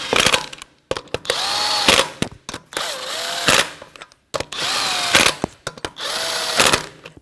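Impact-style power tool snugging the lug nuts on a 1992–1996 Toyota Camry wheel, whirring in about five loud, close bursts separated by short pauses, each burst rising and dropping in pitch.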